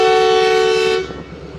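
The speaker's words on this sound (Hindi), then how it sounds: "फाइनल डिपार्चर विसिल और ट्रेन रवाना हो रही है।" A Pak Express train on the Lahore to Khanewal line gives a loud, sustained horn blast as it departs, the steady tone cutting off after about a second and leaving low rumbling rail noise.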